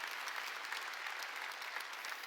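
Congregation clapping during a Sunday church service sermon, a steady, even patter of many hands heard from a distance, fairly faint and continuous throughout.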